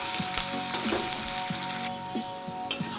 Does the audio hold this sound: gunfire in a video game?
no